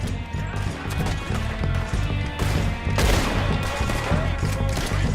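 Dense gunfire in a Red Dead Redemption shootout, loud rapid overlapping shots and crashes throughout, swelling into a heavier burst midway.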